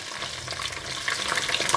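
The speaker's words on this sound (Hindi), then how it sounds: "लाइट गोल्डन ब्राउन तक असी इन्हू फ्राई करना जी।" Chicken fries in hot mustard oil, a dense close crackling sizzle with small pops that swells slightly toward the end, no voices.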